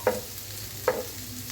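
Onions for egg-and-onion pakoras sizzle gently in a pan, broken by two distinct scraping stirs of a spatula about a second apart.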